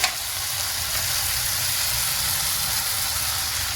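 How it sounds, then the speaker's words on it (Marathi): Ginger, garlic, bay leaf and whole spices sauté in a hot pan with a loud, continuous close sizzle and no talk, steady from start to finish. "जिरे, लवंग आणि दालचिनी, काली मिरी, थोडं परतून घेणार आहोत।"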